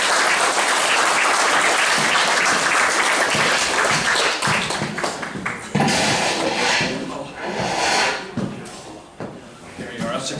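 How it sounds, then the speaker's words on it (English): An audience at a community talk on the Irish in the American Civil War breaks into loud, sustained applause, dense clapping close by that swells and dips slightly before easing toward the end. "And a round of applause."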